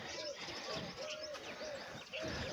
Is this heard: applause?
no